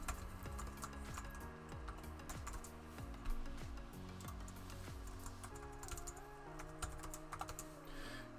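Fingers type steadily on a computer keyboard, entering a headline in a web page builder, a continuous run of quick, fairly faint clicks over low background music.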